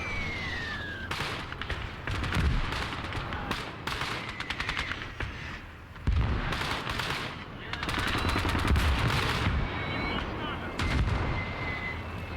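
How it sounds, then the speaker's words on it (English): Tank machine guns from a T-10 fire in the Call to Arms war game, with long rattling bursts and heavy booming shots over constant battle noise, loud and dense with brief pauses between volleys. "Now our T-10 is firing. You can hear the difference between our machine guns."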